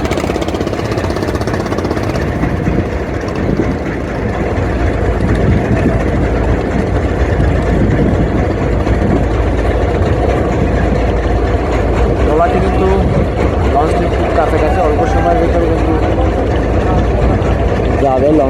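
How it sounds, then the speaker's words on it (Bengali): Trawler boats run on a river alongside a large passenger launch, their engines making a loud, steady, close droning rumble that holds without a break throughout. "দুই দিক থেকে কিন্তু দুটি ট্রলার ছুটতেছে"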